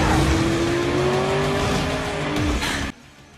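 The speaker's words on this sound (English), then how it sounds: "As the truth came out, Jensen accelerated his car." Race car engine accelerating hard: a loud, close, rising whine climbs over about two and a half seconds alongside rumbling and tire noise, then cuts off abruptly into near quiet.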